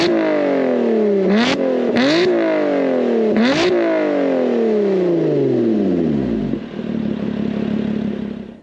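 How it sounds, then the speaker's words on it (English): A 2021 Lotus Evora GT's Toyota V6 starts and revs in three sharp, rising blips, each falling back to idle, then the engine winds down and settles into a steady idle, loud and close. "Let's go ahead and fire it up so you can hear how it sounds."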